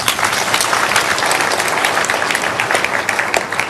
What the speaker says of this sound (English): Can you clap for Jesus Christ?